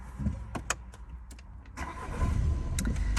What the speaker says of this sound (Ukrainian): Ось авто завів